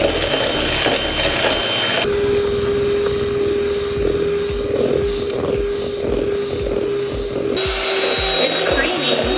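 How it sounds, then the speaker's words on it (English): An electric mixer whips vanilla extract and sugar toward stiff peaks, giving a steady whining motor hum with a thin high tone that starts abruptly and cuts off, faint kitchen sounds around it. "whip those until it has high stiff peaks"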